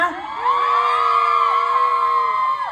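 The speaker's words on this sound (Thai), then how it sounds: "ใครถูกใจช็อตนี้ขอเสียงกรี๊ดดังๆได้ไหมจ๊ะ" A crowd screams and cheers loudly in a sustained, high-pitched roar that swells and holds for a couple of seconds before easing.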